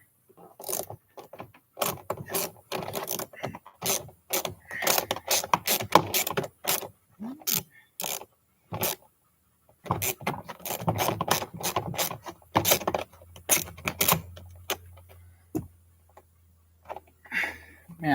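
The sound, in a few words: ratchet with extension unscrewing an old stuck screw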